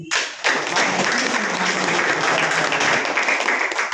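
Loud applause erupts from a large audience at a network marketing company meeting, starting abruptly after a short gap and holding as a thick, sustained roar of clapping until the end.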